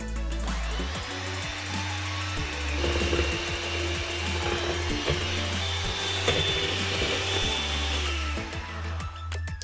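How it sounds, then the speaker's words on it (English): A brand-new electric whisk whips eggs in a bowl at close range, a steady whirring motor hum with rattling, ratcheting clatter from the beaters throughout, and no speech. "next I need to whip the eggs a lot. And this is a brand new whisk I've got"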